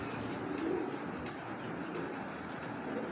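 Pigeons, high-flying Giribaz birds kept for sale, coo softly against a dense, steady background rumble, the low calls faint and partly buried.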